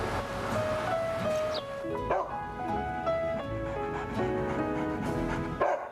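A dog barking and yipping in a TV commercial, several sharp close barks and whimpers against a bright music bed.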